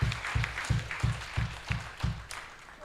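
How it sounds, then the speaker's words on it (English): Rhythmic, evenly spaced claps from an audience at the launch of a Ugandan aquaculture census report, about eight steady beats fairly close, fading slightly toward the end with no voices. "they deserve a big round of applause for that"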